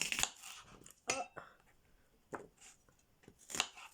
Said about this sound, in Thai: หั่นหอมค่ะ